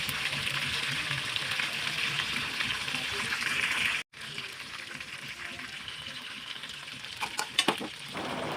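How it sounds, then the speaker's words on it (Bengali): A whole chicken fries in pure mustard oil, a continuous hissing sizzle that briefly cuts out midway, then resumes softer with a few sharp spatters and clicks toward the end. "খাঁটি সরিষার তেল দিয়ে আমি ভাজতেছি"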